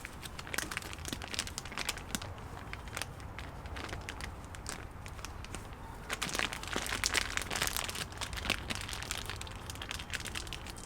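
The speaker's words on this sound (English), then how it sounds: "So now I just start to tighten the plastic around this spot" Thin plastic wrap crinkles and crackles in steady bursts while being tightened by hand around an air layer on a Shimpaku juniper bonsai, close and fairly loud, with a denser flurry of rustling in the middle and no talking.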